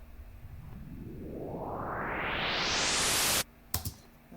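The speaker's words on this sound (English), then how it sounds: "that's how you do a white noise riser" A white noise riser sound effect swells steadily louder and brighter for about three and a half seconds, then cuts off abruptly, followed by a few faint clicks.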